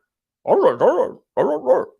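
A person imitates a dog during a live stream, letting out two pairs of short, whiny barking sounds with a brief pause between them, close and clear.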